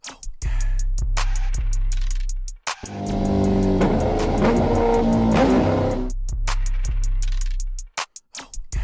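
A motorcycle engine with a reported connecting-rod knock and damaged rocker, idling with a rapid ticking beat, then revved hard into a loud rough roar before dropping back to a clattering idle, close up.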